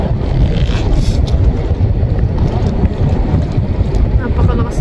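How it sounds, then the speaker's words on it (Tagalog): Strong wind buffets the microphone in a steady, roaring rumble, loud and continuous, with faint water and boat noise underneath. "Napakalakas ng hangin guys."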